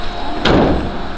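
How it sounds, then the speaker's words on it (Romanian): A van door is pulled shut during a vehicle inspection, giving one loud, close thud over steady background noise. "Ia, închide puțin ușa."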